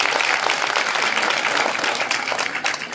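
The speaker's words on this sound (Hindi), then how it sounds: "इनके लिए भी जोरदार तालियां" Loud, close applause from an audience at a school programme on girl education and gender issues in Malothi, a dense, even roar of clapping throughout.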